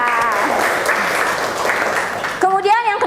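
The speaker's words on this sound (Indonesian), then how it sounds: "tepuk tangan buat Mahda" Classroom applause rattles loud and close from a group of students for over two seconds, then fades as a teacher starts speaking.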